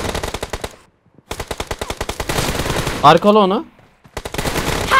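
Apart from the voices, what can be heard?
gunfire in the video game PUBG Mobile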